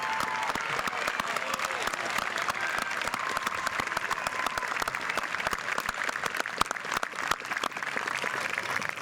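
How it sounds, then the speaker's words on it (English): A high school commencement crowd gives the teaching faculty a dense, sustained burst of applause that fills the hall at an even level throughout, with no voices standing out. "How about applause for all of our faculty?"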